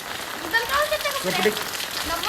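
Rain falls steadily in an empty neighborhood street, a continuous hissing patter heard close with faint voices in the background.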